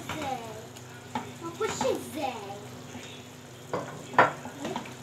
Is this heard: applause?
no